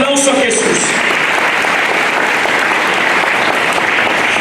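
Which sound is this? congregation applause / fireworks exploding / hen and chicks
congregation applause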